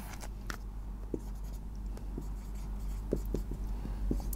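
Marker or chalk writing on a board during a chemistry lesson, sparse short scratchy strokes and taps over a low steady room hum, faint and close, no speech.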